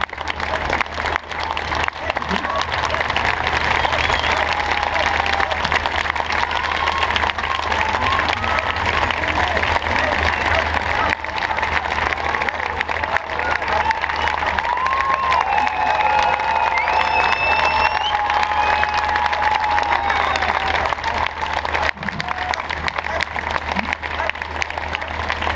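Sustained, loud applause from a large audience at a Paris stand-up talk featuring Paul Watson, a dense unbroken clatter of clapping that fills the whole stretch with some faint crowd noise mixed in.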